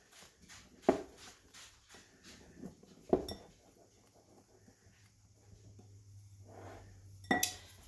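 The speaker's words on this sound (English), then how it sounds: "Mix that all together." Brownie batter ingredients, with a half teaspoon of salt among them, being mixed together in a bowl, heard as scattered utensil clinks and scrapes against the bowl, a few sharper knocks standing out over a quiet background.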